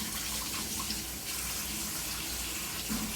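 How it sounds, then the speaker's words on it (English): A tap runs at full flow, a steady close broadband rush of spraying water that continues unbroken without any voice. "But turn the water, you know, a little bit. Don't need spraying that much water."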